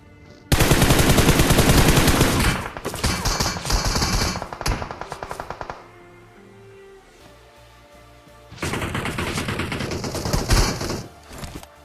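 Loud automatic gunfire rattles from a mobile battle royale shooter game, with long rapid bursts, a short lull, then another heavy volley close up.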